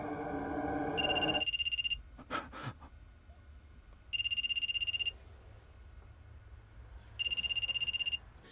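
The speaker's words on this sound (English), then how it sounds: "One of the scariest scenes in this entire movie is when the dude's cell phone starts ringing." A cell phone rings in three short electronic bursts, spaced a few seconds apart, with a quiet sharp gasp-like sound between the first two.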